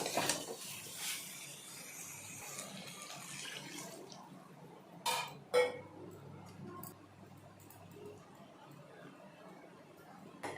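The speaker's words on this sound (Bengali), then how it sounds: "এখন এর মধ্যে দিয়ে দিচ্ছি জল।" Water pours into a cooking pot holding browned chicken and potatoes for a Bengali meat curry, a soft steady splashing and trickling at moderate distance, fading out partway with a couple of sharp clinks afterward.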